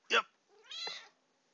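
A house cat meows twice near the microphone, a short sharp cry followed by a longer drawn-out meow, in a quiet indoor room.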